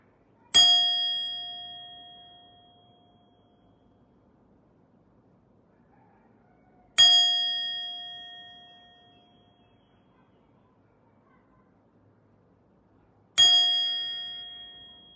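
A bell is struck three times at slow, even intervals of about six seconds, each a clear, resonant clang that rings out and decays gradually into near silence between strikes.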